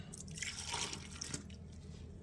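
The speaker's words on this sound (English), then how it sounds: "I'm gonna pour it back in the measuring cup here" Bone stock is poured back into a measuring cup, making a faint, soft liquid trickle with light drips that runs steadily for a couple of seconds, quiet and close, with no talking.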